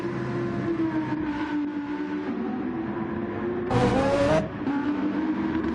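A Gr.3 race car in a sim racing game pulls out of the pits at Bathurst, its engine droning steadily and close with a rising note, then a brief surge of louder revving and tyre noise before settling again.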